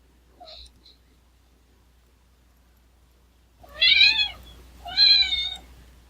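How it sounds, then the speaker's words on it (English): A female cat lets out two loud, drawn-out meows near the mic after a faint earlier chirp, with silence between and a low hum underneath. "What is wrong with that cat?"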